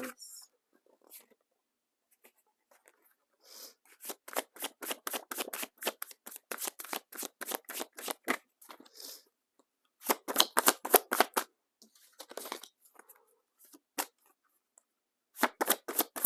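A Sacred Path oracle card deck is riffled and shuffled close up in repeated quick bursts of crisp, rapid card flutters, with short pauses between the rounds.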